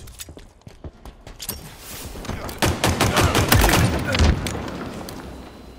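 Gunfire from a Halo Infinite multiplayer match rings out in dense volleys of sharp, loud shots and bursts that build in intensity. A game voice calls out now and then beneath the shooting.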